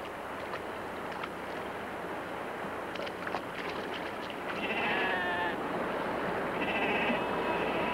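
A flock of sheep bleats in the open during spring thaw, with a few loud, wavering bleats standing out over steady wind and background noise.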